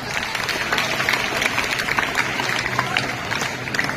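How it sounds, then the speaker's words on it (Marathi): A crowd applauds loudly and steadily from start to finish, a dense wash of clapping at a classroom-style gathering after a student answers a question about Sant Dnyaneshwar. "जोरदार टाळ्या द्यायच्या."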